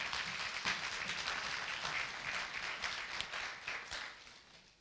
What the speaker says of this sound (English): Clap unto the living God for that.